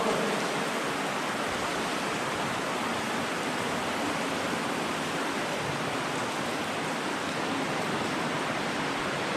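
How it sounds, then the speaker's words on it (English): A steady, loud roar of a river rushing through a large cavern fills the space, broad and unbroken, churning through the echoing chamber. "with the sound of the river and the wide open of the cavern"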